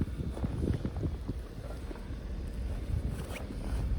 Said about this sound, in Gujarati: પવન બહુ જોરદાર છે આજે